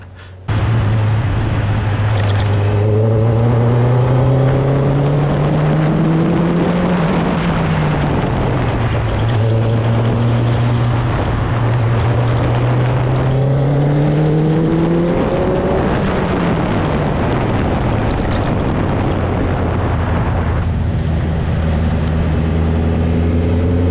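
F1000 race car engine screaming up through the gears, close and very loud, with repeated climbing pitches that drop at each shift and run without a break for the whole stretch.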